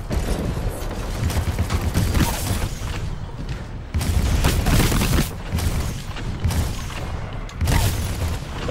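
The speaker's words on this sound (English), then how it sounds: "Firing laser core." A titan firing its laser core in the multiplayer video game Titanfall 2: a loud, continuous roaring beam blast that surges in repeated waves every couple of seconds, with heavy booming and no clear speech.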